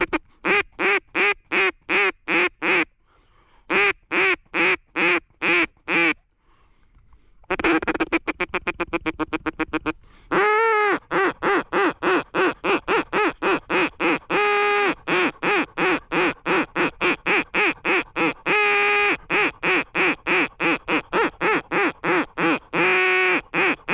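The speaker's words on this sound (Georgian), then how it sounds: "ბიჭო, მოიცა, იხვი მოდის, გაჩერდი." Duck calls during the opening of duck hunting season: loud, close, repeated quacks in rapid rhythmic bursts with short pauses, sometimes running into fast chattering series.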